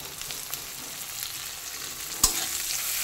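Maggi noodle masala with green chilli and chopped tomato fries in a pan with a steady close sizzle, stirred throughout, with one sharp utensil clack near the end.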